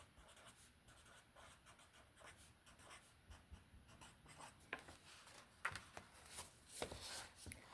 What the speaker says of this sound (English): hopefully you can at least hear me like writing